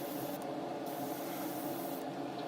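Light coats of Vallejo matte white paint spray onto a 1:144 scale HP Victor K.2 model kit as a steady, close airbrush hiss that is continuous and even, with a few brief shifts in tone and no voices.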